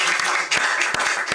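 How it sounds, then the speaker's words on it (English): Audience applause at a community book launch, a steady dense wash of many hands clapping that fills the whole moment at full strength, with a few sharper individual claps standing out. "Please give a round of applause to Francine"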